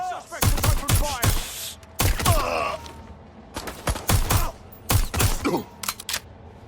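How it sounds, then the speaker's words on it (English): Gunfire in the video game Watch Dogs Legion: repeated sharp bursts of shots in quick clusters through the whole stretch, loud and close, with fragments of voices and game effects in between. "Suspect has opened fire!"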